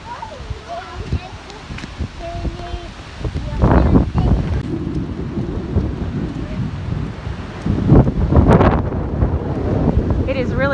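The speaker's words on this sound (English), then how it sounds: "the wind's picking up like 40 miles per hour" Strong gusting wind outdoors in Ohio on a Halloween night, roaring and buffeting the microphone with heavy low rumble that swells louder partway through, with brief voices faintly heard underneath.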